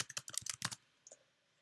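A keyboard shortcut is tapped out on a computer keyboard, a quick close burst of about eight crisp key clicks, then near silence with one faint soft click at the end.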